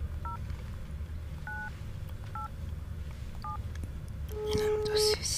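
Touch-tone telephone keypad dialing in an Iranian film scene, a string of short separate tones pressed one by one over a steady low background hum, ending in a brief louder line tone.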